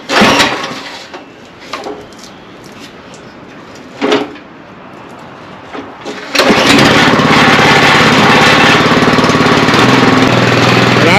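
An Earthquake rear tine tiller engine starts abruptly after some handling clatter and keeps running as a loud, steady, rough mechanical drone close by.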